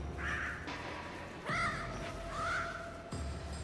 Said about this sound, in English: Birds! We got birds!